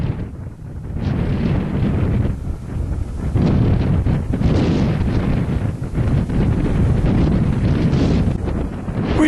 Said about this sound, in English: It's quite a sunny day today, but with a fair breeze blowing.